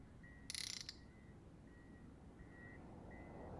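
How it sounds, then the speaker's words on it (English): Space-game background effects from Starbase, a faint periodic electronic beep repeating every second or so over low rumble, with a brief mechanical rattling burst near the start. "we hear Starbase noises in the background"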